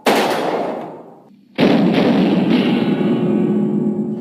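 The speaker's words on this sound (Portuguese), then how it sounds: "a Kalashnikov pode disparar um único tiro ou entrar em modo metralhadora." An AK-47 Kalashnikov rifle in 7.62x39 mm fires two loud, close blasts about a second and a half apart, each followed by a long rolling echo that fills the rest of the sound.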